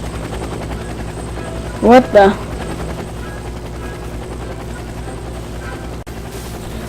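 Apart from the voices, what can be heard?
toy helicopter in the video game Twilight Phenomena 2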